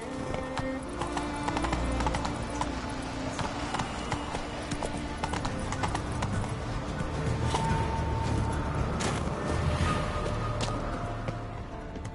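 Hooves of Roach, the horse from The Witcher 3, trot in a continuous, even clip-clop over background game ambience, with a brief whinny-like tone in the mix.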